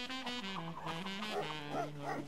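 A dog in the LEGO Worlds video game barks and yips in a short, tonal run of calls, fairly faint.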